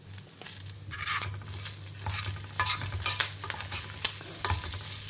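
Spices with asafoetida and turmeric roasting in a pan, with soft frying crackle and repeated scraping strokes of a spatula, close and moderately quiet over a low steady hum.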